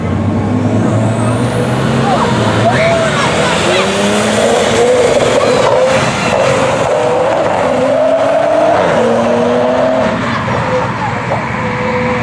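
A modified Tesla races all-wheel drive Audis at a drag strip at night, heard as loud, continuous roaring car noise with rising and falling engine and motor tones throughout.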